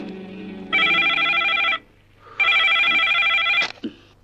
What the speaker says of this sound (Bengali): আমি রাজাকে ফোন করছি।